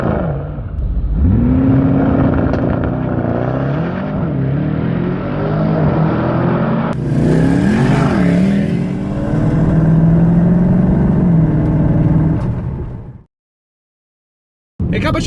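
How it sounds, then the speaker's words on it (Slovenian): Powerful cars launch in a drag race, engines roaring loud and close with rising revs and gear changes through several pulls before the sound cuts off abruptly near the end. "Poglejte si tale drag race."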